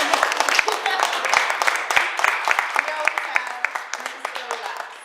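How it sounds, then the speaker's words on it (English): An audience applauds poetry panelists at a library event, a steady wash of many hands clapping, with speech-like voices mixed in as the applause gradually thins out. "Let's give them a round of applause."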